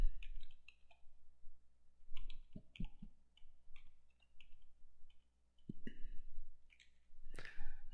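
Sparse, faint clicks of a computer mouse come in small clusters against near silence, with a few soft rustles and one louder burst near the end.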